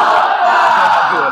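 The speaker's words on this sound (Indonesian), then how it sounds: "Kita aplaus dulu kelompok 2." A group of students in a classroom assessment session burst into a loud, close roar of applause and cheering that holds steady throughout.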